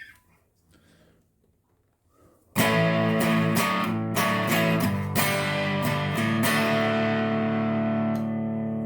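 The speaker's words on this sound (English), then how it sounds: "Here it is with the distortion knob on the right channel turned up to 5." After a quiet lead-in, an electric guitar through a King of Tone overdrive pedal with the distortion at 5 bursts in loud, with gritty driven chords and rhythmic accents that sustain to the end.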